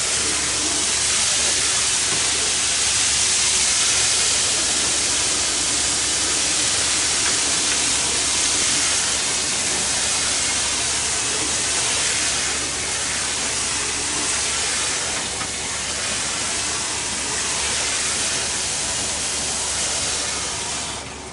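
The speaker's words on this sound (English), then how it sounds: "This is going to add some air to the water right now." A steady, loud hiss of air being forced into water by a handmade aerator runs continuously, a broad rushing sound with slight bubbling fluctuations throughout.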